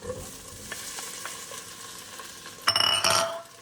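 Rice for chicken fried rice sizzles and is stirred in a hot pan, a steady low frying hiss with soft scraping, then a louder burst of crackling sizzle near the end.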